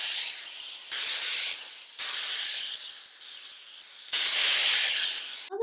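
A Dyson Airwrap hair styler blows a steady airy hiss that steps up and down in strength as the airflow setting is changed, close and without talk.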